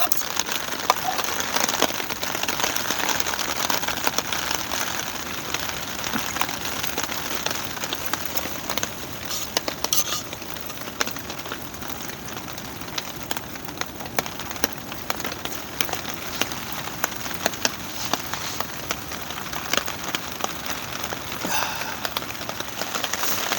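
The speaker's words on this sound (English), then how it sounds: "Raining." Steady rain pattering on a tarp shelter and surroundings at a campsite in Cape Disappointment State Park, a dense, even hiss of drops continuing throughout with scattered closer taps and no talking.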